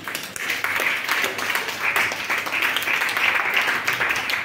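Church congregation applauding, a sustained wash of many hands clapping with a few cheers, steady and full throughout.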